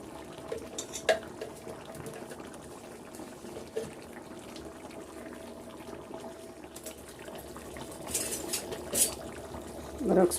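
Fish curry with tamarind and tomato simmers in a covered pot, with a low steady bubbling and occasional clinks of a spoon against the vessel, close by.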